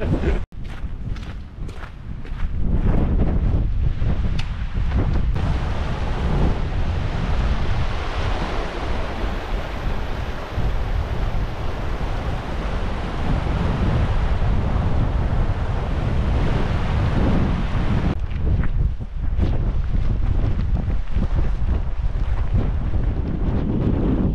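Strong, continuous wind buffets the microphone on an exposed Cairngorms mountain hike in Scotland, a loud roaring rush that stays steady for most of the stretch, with brief footstep-like rustles at the start and end.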